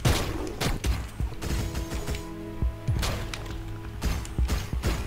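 Pistol firing in Hyper Light Drifter, a few sharp separate shots mixed with thuds and mechanical game effects over a steady musical drone, moderately loud.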